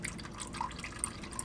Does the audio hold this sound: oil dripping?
yes